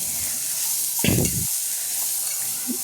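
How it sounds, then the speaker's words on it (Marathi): Jackfruit bhaji frying in a pan, Goan Konkani style, with a constant soft sizzle and a brief louder scrape and rustle of stirring midway. "आनी मागीर धाडिल्ली ती भाजी कुल्याची आसा ती भितर ऍड करपाची, बरी तळसून घेवपाची"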